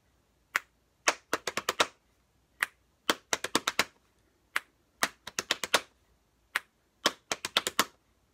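Body percussion with a sharp single snap or pat followed by a quick flurry of pats, repeating in tight bursts close up, with no speech.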